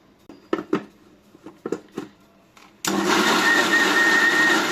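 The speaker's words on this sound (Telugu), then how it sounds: "ఇప్పుడు మిక్సీ పట్టుకుందాం." A few light handling clicks and knocks come first, then a kitchen mixer grinder starts grinding boiled tomato and onion with a loud, steady, close motor whir.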